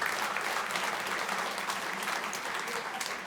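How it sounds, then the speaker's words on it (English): Warm applause from attendees at a spring luncheon celebrating women, steady mid-level clapping from a roomful of people lasting a few seconds. "Let's give them a round of applause."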